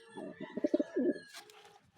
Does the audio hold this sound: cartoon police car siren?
no